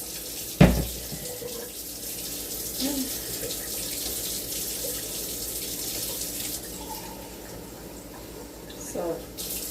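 Tap water runs steadily into a liquid measuring cup in a kitchen, a close, continuous splashing hiss with a thump near the start and faint handling noises toward the end.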